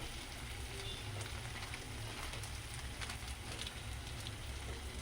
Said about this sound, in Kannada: ಈಗ ಈರುಳ್ಳಿ ಟೊಮೆಟೊ ಎಲ್ಲ ಚೆನ್ನಾಗಿ ಫ್ರೈ ಆಗಿದೆ